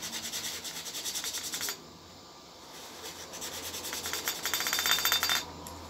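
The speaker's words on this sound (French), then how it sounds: "je vais nettoyer un petit peu le piston" A Stihl FS38 piston is rubbed clean by hand, giving close, quiet, rapid scrubbing strokes in two bursts separated by a brief pause.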